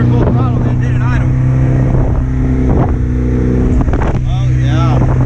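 A 1989 OMC Cobra 2.3-litre boat engine with a Pertronix Ignitor II ignition runs at full throttle, a loud, steady, close droning roar that never lets up, with wind buffeting and a voice briefly audible underneath.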